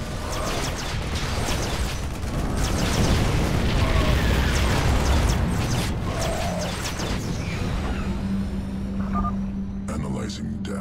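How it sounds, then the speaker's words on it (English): An experimental warhead detonates in StarCraft II, a heavy booming blast with a long rumbling roar and debris crackle spread over several seconds, under game voice lines and layered effects, then fading to a lower hum. "Fire the damn warhead now!"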